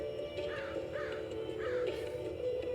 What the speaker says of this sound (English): Yeah, I have names for the crow.